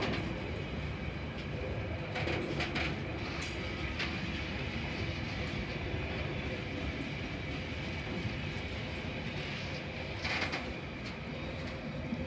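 A freight train rolls past at Tempe in Sydney, a steady, fairly distant rumble with rhythmic clatter of wagons over the rails, continuous throughout with a few sharper metallic clanks.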